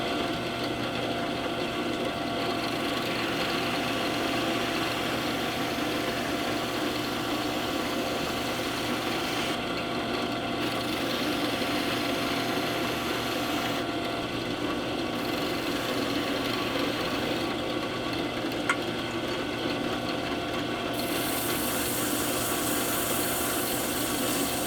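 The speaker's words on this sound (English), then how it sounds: "To sand the edges, I'm using a small sanding drum attached to my drill press." A drill press motor whirs steadily while a small sanding drum rasps continuously against the edges of a leather wallet for about twenty-five seconds, close and loud, with no talking.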